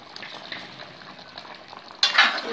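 Garam masala being stirred into a curry in a pan, a soft continuous scraping and light sizzle that swells into a louder, sharper stir near the end, with no talk.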